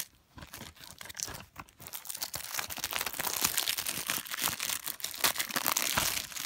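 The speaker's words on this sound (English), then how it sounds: "gotta take this plastic off" Plastic shrink-wrap being torn and peeled off a Blu-ray case, a steady run of close, loud crinkling and ripping, with no one speaking.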